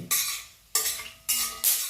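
Garlic crackles and hisses in a pan with a little oil, in a few sharp bursts that fade between stirs, close up with no voices.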